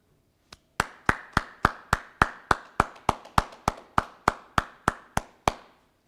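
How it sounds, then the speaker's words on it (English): A single person claps alone for parents and supporters at a high school senior awards night, about twenty crisp, evenly spaced hand claps close by in a quiet room. "give a round of applause, even if it's only by yourself, to your mom and dad and your grandparents"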